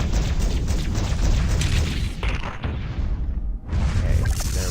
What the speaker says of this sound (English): it doesn't take much to destroy these, so I'm going to use my light guns